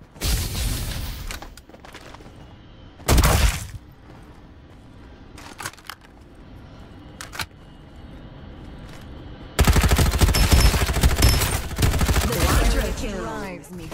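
Farlight 84 battle-royale shooting: a short sharp burst of automatic fire early on, scattered single cracks, then a long loud stretch of continuous rapid gunfire to the end.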